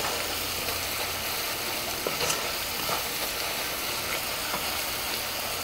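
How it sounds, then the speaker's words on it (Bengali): Rohu fish roe being stirred and fried with spices and salt in a pan, a steady close sizzle with scraping stir strokes running throughout, no talking. "লবণ দিয়ে এটার মশলার সঙ্গে ভালো করে মিশিয়ে নিচ্ছি"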